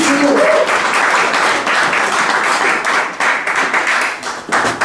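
A church congregation applauds in praise of the Lord, dense steady clapping throughout with rhythmic surges and a voice briefly heard at the start.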